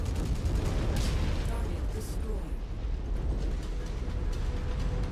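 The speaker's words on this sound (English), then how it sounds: "you had an ammo explosion" A mech's ammunition cooks off in MechWarrior 5 with a dense, roaring burst of explosions and gunfire, loud and sustained and fading slightly midway, while a voice talks over it.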